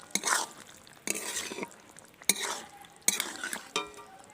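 A spoon scrapes and stirs kuche fish curry in a pan after garam masala is added, four separate bursts of stirring with soft sizzling, close and fairly loud, no voices.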